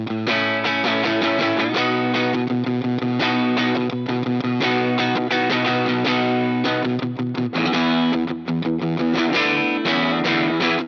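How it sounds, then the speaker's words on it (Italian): Distorted Telecaster electric guitar plays chords and riffs, loud and thick with sustained crunchy overdrive and a brief break in the middle. "la distorsione si sente un po' più presente sulle basse, mentre sulle note più acute esce proprio il carattere della Telecaster"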